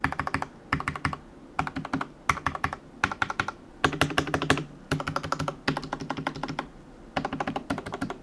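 Rapid clacky keystrokes on a stock, unmodified budget mechanical keyboard come in bursts with brief pauses, close and crisp, with no talking.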